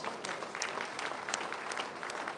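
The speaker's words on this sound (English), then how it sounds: "Clap for yourselves." A crowd at a political party's aspirants dinner claps for themselves in steady, dense applause, many hands at once, even and unbroken for the whole stretch.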